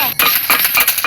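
Coins collected in a video game ring out as a quick, bright run of chiming pickups, loud and close, one after another with no pause.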